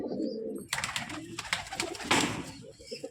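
Dhari pigeons coo in steady low rolling phrases, close and fairly loud, with a brief pause early on and a rustle of movement over the cooing.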